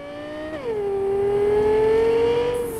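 A car engine in Cyberpunk 2077 drops in pitch, then holds a loud, steady humming drone that climbs slowly as it revs, close and alone.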